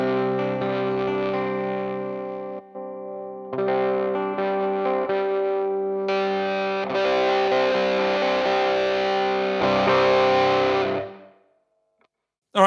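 Electric guitar through an Underdog Chuck amp with high gain, heavily distorted chords ringing out in sustained bursts with short pauses, fading to silence at the end.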